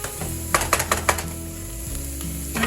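Flipped patties sizzle steadily in an air fryer, a constant close crackling hiss with a few brief clatters early on and a low hum underneath, no voices.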